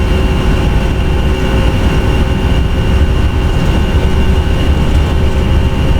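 Airbus A320 engines spool up to full takeoff thrust in the Prepar3D flight simulator, a loud, steady broadband roar with a deep low rumble and a faint high whine, sustained without pause.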